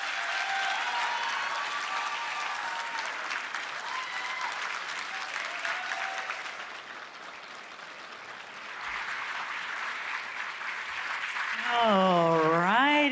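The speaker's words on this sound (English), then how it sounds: "Let's give a round of applause for Lisa Matthews." An audience at a 2024 governor candidate forum claps steadily throughout, a sustained wash of applause that dips slightly midway, then swells again before a voice begins speaking at the end.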